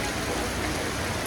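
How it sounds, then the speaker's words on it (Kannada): Heavy rain pours in the Western Ghats near Hassan as a dense, even hiss of water. "ಹಾಸನಲ್ಲೂ ಎಲ್ಲ ಟ್ಯಾಂಕ್ ಫುಲ್ಲಾಗಿ ಮಳೆ ಬರ್ತೈತೆ ಇಷ್ಟೊಂದು ಜೋರಾಗಿ"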